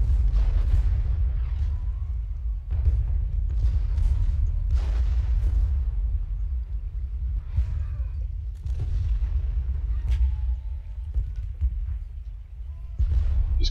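Civil War cannon fire in Ultimate General Gettysburg: a steady low rumble of battle with repeated booming artillery shots scattered irregularly across the span, some sharper and nearer, others distant.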